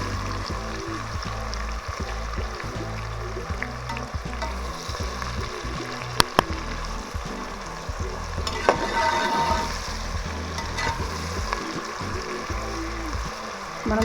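Mixed vegetables for vegetable pulao, salted, fry and sizzle loudly in a pan while a spoon stirs them, with scraping clinks and a couple of sharp knocks against the pan, steady throughout with no talking.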